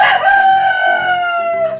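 A Rhode Island Red rooster in a coop with hens gives one long, loud crow close by, a sustained harmonic call lasting nearly two seconds with no talk over it.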